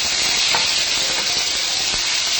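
Shallots sautéing in a hot pan with green chillies, a close, steady sizzle and hiss with a few soft stirring clicks, no talk.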